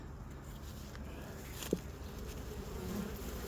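A steady, low insect buzz of many honey bees hums continuously near a square hive, with one brief soft tap partway through.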